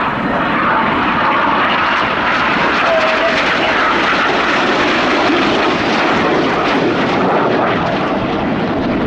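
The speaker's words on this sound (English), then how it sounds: "Each aircraft will perform a barrel roll, followed by inverted flights in a maneuver called the crossbow." RAF Red Arrows jets fly a display at the Midlands Air Festival, their engines a loud, continuous roar that fills the whole stretch, with a commentator's voice partly buried beneath it.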